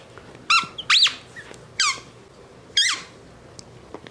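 A dog's squeaky toy squeaks in four or five sharp, close bursts spaced about a second apart, with quiet gaps between.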